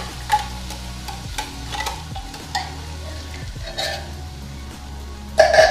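Tomato sauce with tuna and aubergine being stirred in a pan over the gas, with low rhythmic scraping strokes and a faint sizzle running steadily throughout.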